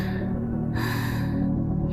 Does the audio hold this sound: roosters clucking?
no